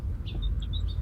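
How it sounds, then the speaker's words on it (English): Crowned sparrows chirp in a winter garden with a few faint, brief high tweets over a low background hum, distant and quiet. "your garden just kind of fills up with lovely bird song as our crowned sparrows pop in"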